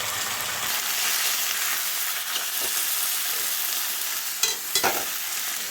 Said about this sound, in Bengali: চিকেনটা ভালো করে ভাজা হয়ে গেছে